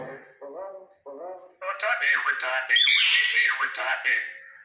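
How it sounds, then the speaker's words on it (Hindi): A pet myna bird gives a run of harsh, raspy squawks that grow louder and denser toward the end. A brief human voice is heard just before the calls. "मैना सलाम का जवाब दो बेटा।"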